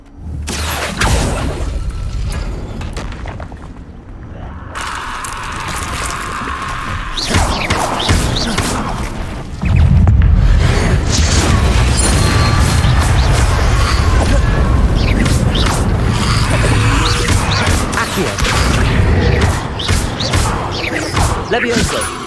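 Hogwarts Legacy Depulso and Accio spell impacts: repeated heavy crashes and thuds with whooshes, a loud booming stretch midway, and a dense churn of combat noise with a voice present.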